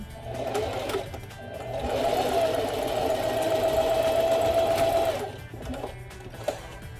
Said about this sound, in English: I'm just going to make a stitch line as close as possible to the opening as I can.